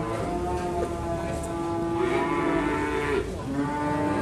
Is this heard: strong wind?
no